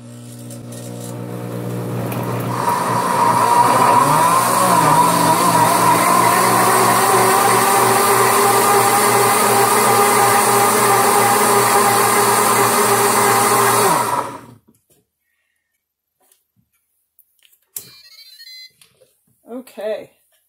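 A blender whirs steadily for about fourteen seconds while it purees cabbage, ginger and turmeric for a probiotic drink, then stops abruptly, leaving near silence and a few faint clicks.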